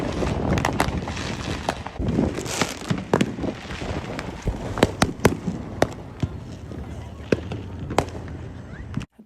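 Fourth of July fireworks pop and crackle in a string of sharp, irregular bangs at a moderate distance, with gusty wind noise in the background.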